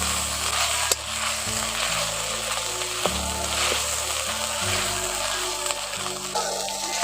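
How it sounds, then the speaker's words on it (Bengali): Ground spice paste sizzles steadily in hot oil in a pan before mushrooms go in, a constant close frying hiss with a few faint clicks of stirring and a low background hum, no talking. "বাটা মশলাটা দিয়ে ভালো করে একটু কষে নিচ্ছি।"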